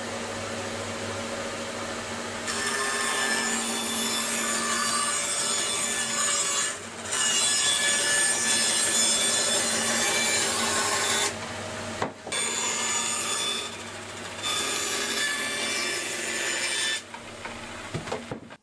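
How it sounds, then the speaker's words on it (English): A saw rips lengthwise through solid oak tongue-and-groove flooring, a loud continuous rasping cut running in long bursts with short pauses between passes, close and alone. "What I've got is a bit of solid oak flooring, but it's got a tongue and a groove on it, so first job is to rip it down."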